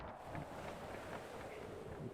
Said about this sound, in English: It's exactly as windy as it sounds like it is.